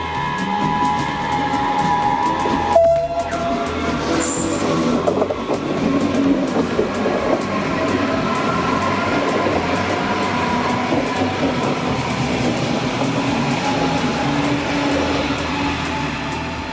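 An S-Bahn electric multiple unit runs on the S3/S4 line between Bad Soden/Kronberg and Frankfurt Hauptbahnhof, giving a steady, moderately loud interior rumble and rolling hum that holds for the whole stretch, with a brief squeal near the start.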